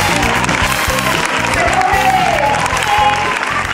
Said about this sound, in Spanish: me despido y un fuerte aplauso para Coque.